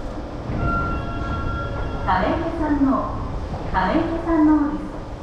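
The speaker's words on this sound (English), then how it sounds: "The local train bound for 浦和武蔵is arriving at track 3." A Tokyo Metro Namboku Line subway train arrives at an underground station platform, its steady rumble running throughout beneath a recorded announcement and rising chime-like tones, loud and close.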